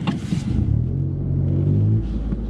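A car pulls away and gathers speed during a driving assessment on a road, its engine rumble rising into a steady, close drone that holds for a couple of seconds before easing slightly.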